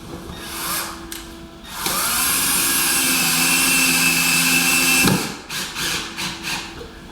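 A power drill pre-drilling screw holes whirs steadily for about three seconds, close and loud, framed by shorter bursts of drilling and handling noise before and after.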